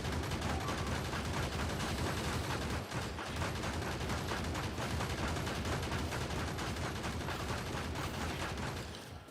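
Gun turrets in a modded Factorio game with Angel's and Bob's mods firing nonstop, a dense, loud, unbroken rattle of rapid shots sustained throughout with no pause.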